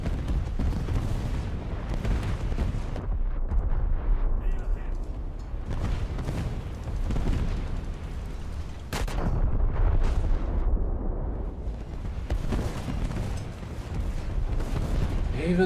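Gunners fire during a War Thunder arcade battle, with heavy cannon booms and gunfire rumbling continuously and loudly, one sharper blast standing out near the middle, and a voice speaking over the din.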